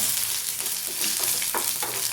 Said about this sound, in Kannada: ಒಗ್ಗರಣೆ ರೆಡಿ ಆಗ್ತಾ ಇದೆ.